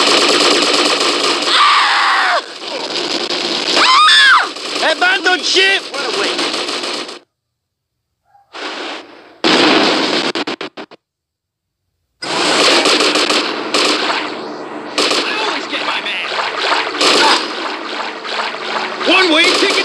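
Rapid automatic gunfire in GTA Vice City Stories during a shootout aboard a ship, loud bursts broken by short gaps, mixed with water and engine noise and game voices.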